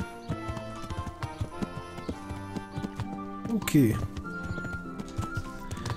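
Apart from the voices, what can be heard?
horse hooves clip-clopping while riding, in video game Kingdom Come: Deliverance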